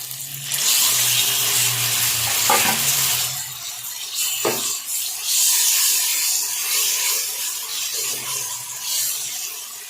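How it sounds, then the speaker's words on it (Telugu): Raw tamarind chutney frying in a pan for pulihora, a loud, steady sizzling hiss that swells and eases, with a few soft scraping knocks partway through. "చింతకాయ పచ్చడి ఇలాగా ఫ్రై చేసుకుంటే చాలా బాగుండిద్ది"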